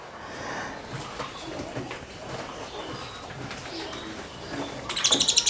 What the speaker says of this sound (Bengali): দেখেন পাখি, 4টা পাখি কিনছিলাম